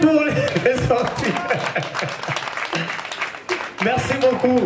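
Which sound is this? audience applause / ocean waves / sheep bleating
audience applause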